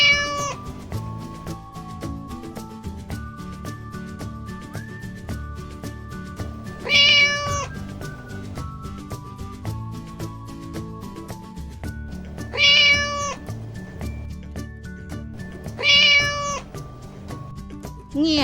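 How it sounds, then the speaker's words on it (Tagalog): A cat meows three times, each a clear, drawn-out call rising above continuous background music, spaced several seconds apart. "Pusa. Meow, meow,"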